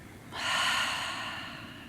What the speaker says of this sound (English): Last one, deep breath in. And exhale.